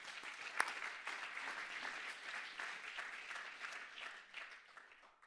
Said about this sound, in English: So a round of applause to our excellent panel